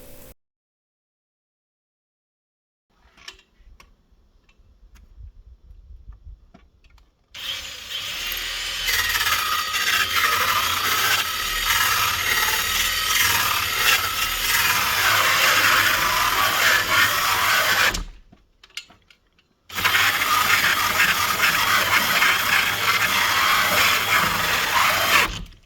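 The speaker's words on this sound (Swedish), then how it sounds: "Nu jag använder den här borrmaskin" An electric drill bores a 115 mm hole for a chimney, running loud and steady for long stretches close by, then briefly stopping and starting again after quiet handling noises.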